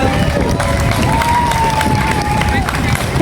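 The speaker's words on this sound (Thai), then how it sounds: "ผมจะขอให้ทุกท่าน ได้ ปรบมือ ให้กับ ทีมงานทั้งหมดบนเวที" Crowd applause and cheering at an annual shrine festival in Nakhon Ratchasima with boxing on stage, a loud continuous roar of clapping and shouts, with a whistle-like tone sweeping through.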